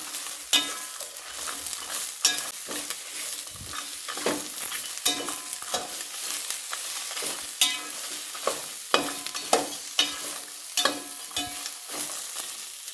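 Spices fry in a pan for a chicken curry, a busy sizzle broken by frequent scraping clicks of a spoon stirring against the pan, close and moderately loud with no talking.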